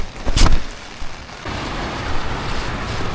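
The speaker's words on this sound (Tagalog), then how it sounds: "Walang hintong ulan." Rain falls steadily after a typhoon, a soft continuous patter that thickens after a brief loud knock near the start.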